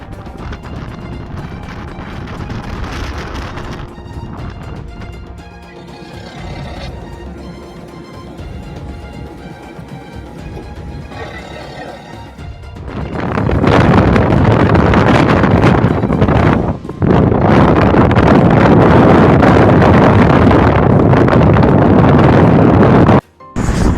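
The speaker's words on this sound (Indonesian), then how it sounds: "akibat hembusan angin yang kencang." Strong gusting wind, a whirlwind storm sweeping a traditional market, roars in loud, steady broadband gusts, rising sharply partway through after a quieter, rumbling stretch.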